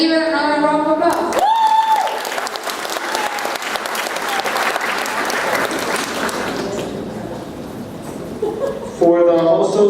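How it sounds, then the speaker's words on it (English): Audience at a student leadership awards ceremony breaking into sustained applause, loud dense clapping after a speaker's voice, with speech returning near the end. "let's give it another round of applause"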